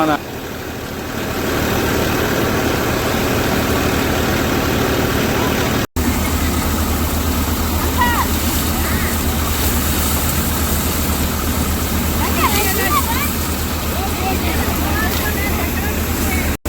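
A tractor engine drones close by throughout, a continuous low rumble with a few faint voices or bird-like chirps riding over it.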